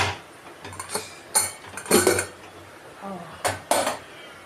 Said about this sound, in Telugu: దీని పక్క స్టవ్ ఆఫ్ చేసి దీని పక్క పెట్టేసుకుందాం దీన్ని మూత వేసేద్దామండి